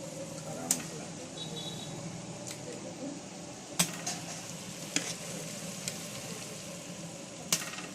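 Garlic and masala fry for a large 10 kg batch of goat mutton cooked village style, a steady broadband sizzle with occasional sharp stirring clatters, while a voice talks over it.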